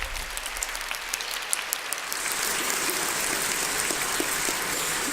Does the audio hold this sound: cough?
no